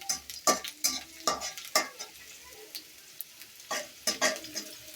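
Chickpeas being fried and stirred in a pan on a small village stove for chana bhuna, with repeated scraping strokes of a spatula over a steady close sizzle, no talking.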